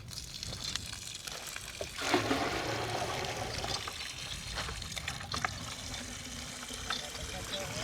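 Water gushes and trickles from a hand pump, a close, continuous splashing flow with people talking over it.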